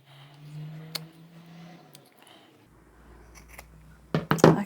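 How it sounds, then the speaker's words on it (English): Scissors snip through fabric near the stitching line of a sewn bag with box corners, quiet crisp cuts, with a brief burst of closer snipping at the end. "we've trimmed that off really close to the stitching line"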